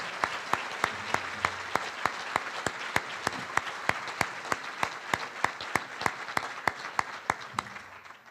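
Sparse, rhythmic clapping from a small group at an awards ceremony, steady hand claps repeating across the whole stretch with no talking.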